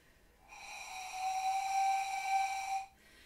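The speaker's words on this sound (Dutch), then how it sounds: "Ik begin met blazen en dan doe ik mijn fluit ervoor." A single sustained pan flute tone, breathy and airy with a steady pitch and rich overtones, blown softly at first and then held for about two and a half seconds before cutting off cleanly.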